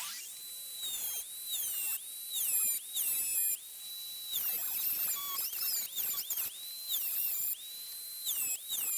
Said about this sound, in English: I'm just going to slit down here with the Dremel just to create an edge